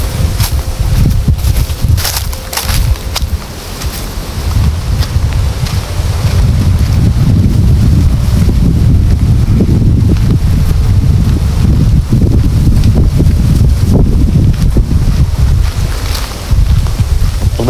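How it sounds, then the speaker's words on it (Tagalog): Strong wind blasts across the microphone outdoors in a loud, continuous roaring rumble that swells into heavier gusts partway through, with no one talking. "Lakas ng hangin doon."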